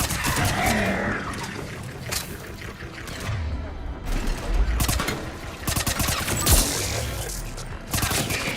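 Bursts of automatic gunfire in the video game Mass Effect Remastered, repeated rattling volleys with a few heavier booms, loud and close, with voices talking in between.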